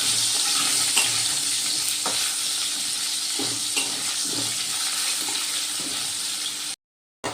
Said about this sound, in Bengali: এবার আমি আলুগুলো একটু লাল লাল করে ভেজে নেব।